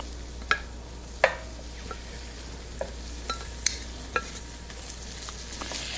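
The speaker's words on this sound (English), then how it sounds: "We wanna add our beef, nice browned up beef short ribs to our pan." Browned beef short ribs and vegetables going into a pan, a soft steady sizzle under a low hum, punctuated by several sharp clinks and taps from utensils, with no talking.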